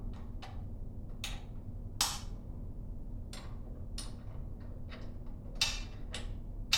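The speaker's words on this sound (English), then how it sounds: "the Allen wrench on the bolt." An Allen wrench turns on a bolt of an adjustable workout bench, producing a series of faint, irregular metallic clicks and ticks against quiet background hum.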